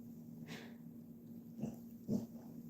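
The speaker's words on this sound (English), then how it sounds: "She's barking at someone across the street." A dog gives a few soft, muffled huffs and quiet little barks, close by but faint, with short gaps between them against a low steady hum.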